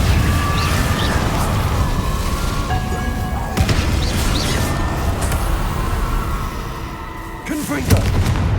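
Incendio fire spell being cast in the video game Hogwarts Legacy, a burst of roaring flame with booming impacts amid constant loud battle noise, spoken voices mixed in.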